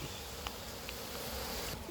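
Honey bees hum steadily around an upturned beehive box, a continuous close buzzing with no voices.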